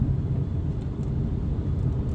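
A steady, low engine rumble from inside a moving Volkswagen Golf R, continuous and fairly loud, with no voices.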